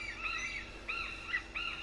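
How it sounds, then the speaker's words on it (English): A brown hornbill calls in Thailand, giving a few short, high, slightly wavering notes in separate bursts. The calls are moderately clear over a quiet background. "This is the brown hornbill."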